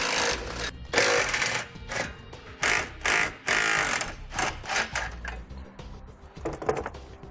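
Bumper beam bolts on a 2018 Ram ProMaster being removed with a power tool, a loud close rattling buzz in several quick bursts with short breaks between them.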